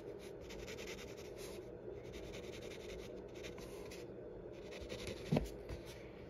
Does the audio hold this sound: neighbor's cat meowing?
no